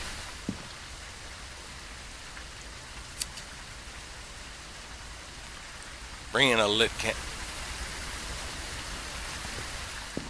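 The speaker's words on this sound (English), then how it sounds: "It's raining." Steady, soft rain falls at a campsite lodge in the video game Phasmophobia, a constant hiss in the background, with a voice speaking briefly partway through.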